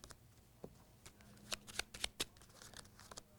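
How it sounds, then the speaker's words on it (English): Playing cards are shuffled and riffled close up, giving soft papery rustling with several sharp flicking bursts, quiet and without talk. "we'll transfer some cards from one packet to another and continue the shuffling process"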